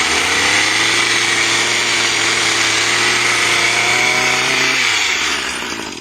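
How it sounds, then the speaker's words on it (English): RedMax SGCZ2500S reciprocating brush cutter running at low RPM while cutting cattails, a loud steady buzzing engine drone close by, pitch dipping slightly near the end as it eases off. "So at a very low RPM,"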